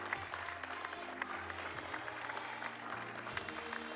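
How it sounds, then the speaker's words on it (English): A ceremony audience at a declaration signing applauds with steady, even clapping that continues for the full few seconds at moderate distance, with faint voices beneath. "Let's give them a big round of applause."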